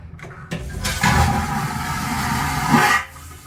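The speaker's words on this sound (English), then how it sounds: "There's the toilet flush." A toilet in an interior stateroom on the cruise ship Oasis of the Seas flushes with a sudden rushing swirl of water lasting a couple of seconds, then drains away, close and clear.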